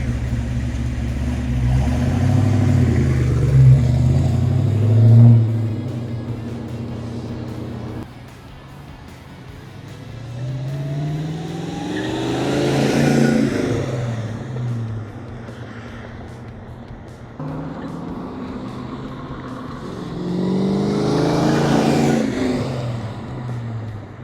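A 1971 Oldsmobile Cutlass 442 W-30 makes three accelerating flybys, its V8 rising from distant rumble to a loud roaring pass and then fading as the car goes by.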